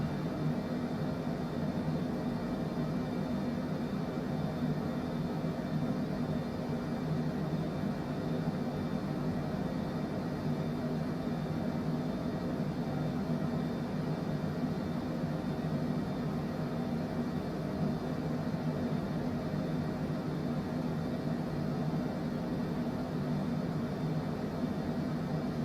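Airplane engine in cruise flight in Microsoft Flight Simulator 2024, a steady unchanging drone heard from the cockpit at moderate level, with no other sounds throughout.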